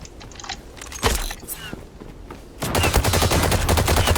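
Gunfire from the online shooter game Zula, with scattered single shots followed by a dense, continuous burst of rapid automatic fire, loud and close, with no talk.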